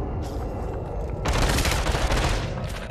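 Rapid UZI submachine gun fire in the VR shooter Population One, a loud sustained burst of dense automatic shots following a quieter lead-in.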